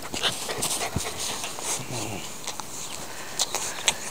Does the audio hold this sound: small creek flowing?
no